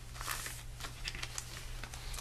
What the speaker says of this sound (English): Fold the paper in half lengthwise.